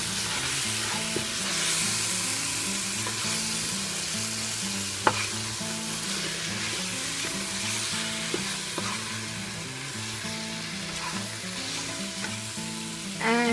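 Spiced rice mixture for Saudi kabsa sizzling and frying in a pot while a spoon stirs it, with occasional scraping clinks against the pot over a steady crackle.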